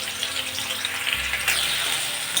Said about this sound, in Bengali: তেলটা গরম হয়ে গেছে আলুগুলো আগে ভেজে নেব আমি এখানে সানফ্লাওয়ার অয়েল ব্যবহার করছি